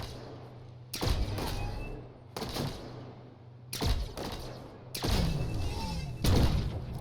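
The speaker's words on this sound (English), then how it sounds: "Now who's shooting me?" Gunfire aimed at the player in the sci-fi video game The Signal from Tolva: about five heavy, booming shot bursts at irregular intervals of roughly a second, each with a short rumbling tail over a steady low hum.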